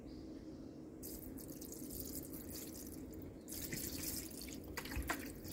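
Household vinegar is poured over a MaxxFan vent fan screen, with soft trickling and intermittent dripping at close range, fairly quiet, rising in bursts alone without talk.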